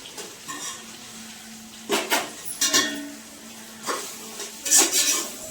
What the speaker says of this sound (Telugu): ఈ పచ్చిమిరపకాయలు ఉన్నాయి కదా, ఇవి వేసుకోవాలి.